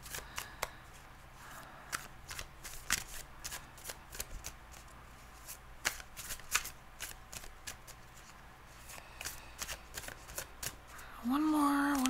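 A deck of slightly sticky tarot cards is shuffled in quiet, irregular riffles and taps, with occasional soft talk in between.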